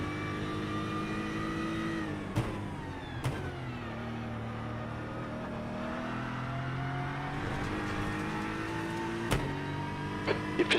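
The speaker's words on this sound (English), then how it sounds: "Third gear in the McLaren." McLaren race car on a circuit, engine loud and steady as it accelerates out of a corner and climbs through the gears, pitch rising within each gear and snapping back at a few sharp upshifts.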